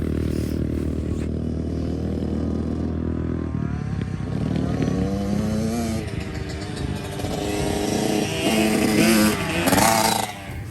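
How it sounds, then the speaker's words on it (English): A dirt bike engine drones loud and close as it rides through mud at a boot camp session, the pitch shifting and revving up with scraping, clattering sounds as the bike slides. "His bike slid out and he went right in the mud."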